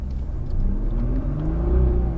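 A Nissan GT-R accelerates on a smooth throttle through a coned course, its engine note climbing steadily with a deep, close rumble throughout.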